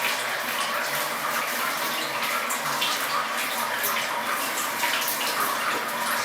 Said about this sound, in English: getting the water, sparge water, pouring it gently onto top of the grist.